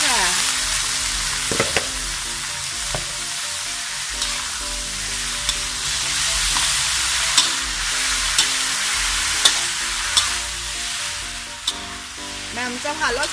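Three kinds of mushrooms stir-fried with oyster sauce in a hot pan, a loud continuous hiss of frying with occasional spatula knocks and scrapes, close up throughout.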